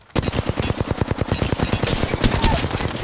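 Rapid automatic gunfire in the Apex Legends battle royale, a fast steady burst of loud close shots lasting about three seconds, with no talk over it.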